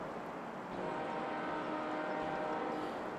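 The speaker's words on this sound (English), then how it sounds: "In the distance, I heard the blaring of a train." A distant train horn blares in a long steady sustained tone, held at an even level without breaks over a dull rumbling background.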